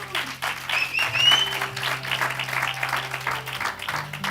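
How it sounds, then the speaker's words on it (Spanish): A church congregation applauds together, a steady wash of clapping that fills the room, with a low sustained organ or keyboard tone underneath and a brief whistle-like tone riding above early on. "¿Por qué no le da un aplauso al Señor?"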